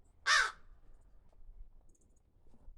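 A crow named Frankie gives a single loud, harsh caw close by, followed by quiet outdoor background with faint distant chirps.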